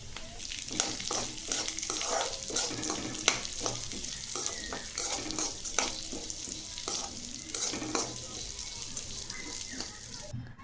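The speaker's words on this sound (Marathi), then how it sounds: "आता काजू भाजून घेऊ आपण हलकासा कलर येईपर्यंत भाजायचं" Cashews and sunflower seeds dry-roasting in a pan, a faint steady rustle with repeated sharp scrapes and clicks from stirring, quiet throughout.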